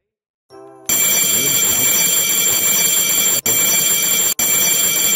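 A fire alarm system (FDAS) set off by testing a smoke detector, a loud continuous electronic tone with steady harmonics that starts abruptly after a brief quieter beep, with two short breaks in the ringing.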